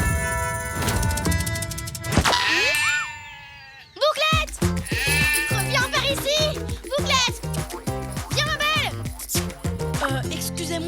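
Cartoon sheep bleat in quavering, high-pitched cries amid bouncy music and comic sound effects, with a child-like voice chattering in between.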